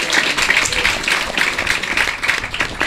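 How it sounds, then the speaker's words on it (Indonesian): A crowd at an Islamic boarding school in Papua applauds for a Habib with brisk, dense, steady clapping throughout, loud and close, with no voices over it. "Tepuk tangan untuk Habib dulu."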